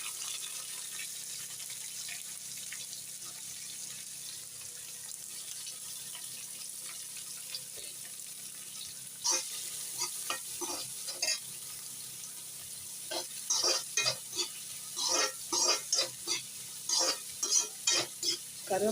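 Chopped onion with garlic being fried in hot oil for a Tamil tamarind curry, the pan sizzling faintly at first, then a burst of sharper sizzle followed by a run of scraping, rhythmic stirring strokes near the microphone.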